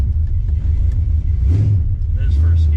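A 340 Duster with a manual transmission idles with a deep, loud rumble as it is shifted into first gear, the engine note swelling briefly and someone speaking close by over the running motor.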